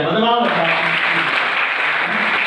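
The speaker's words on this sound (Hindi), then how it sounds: "ताली बजाएं, बदलाव" A Hindi-speaking crowd at a talk claps in a dense, continuous burst of applause, loud and close, with a voice speaking over it at the start.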